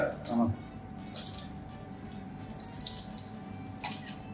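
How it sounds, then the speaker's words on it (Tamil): Water runs steadily from a tap while a dog is bathed, a soft continuous splashing with a louder burst at the start, while a voice talks faintly in the background. "அழகாக பார்த்து பொறுமையாக குளிப்பாட்டுறாங்க"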